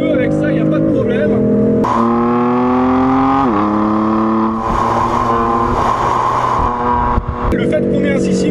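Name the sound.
BMW six-cylinder twin-turbo diesel car accelerating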